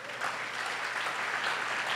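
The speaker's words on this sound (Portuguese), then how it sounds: "Vamos aplaudir o Senhor." A church congregation applauds during a sermon, a steady wash of dense clapping at moderate, slightly distant level for a couple of seconds with no talk over it.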